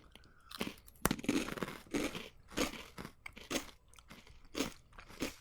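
A crunchy taco-shell-shaped snack is chewed close up, with loud repeated crisp crunches and crackles in an uneven chewing rhythm and no talking.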